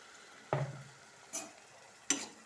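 Onions fry in oil in a pan while being stirred. Three distinct scraping stirs cut through a faint, continuous background sizzle.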